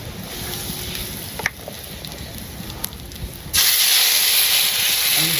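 Cumin and radhuni spices hit hot oil and sizzle, a steady hiss that suddenly swells much louder and brighter near the end, with no talking over it.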